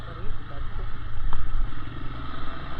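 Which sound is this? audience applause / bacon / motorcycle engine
motorcycle engine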